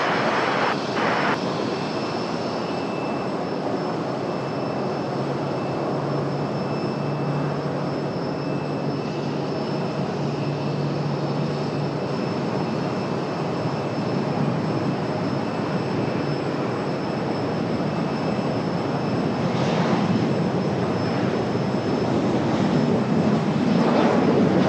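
A fixed-wing jet takes off from a runway at Raleigh-Durham airport, its engine roar steady and loud for the whole stretch, with no talk over it.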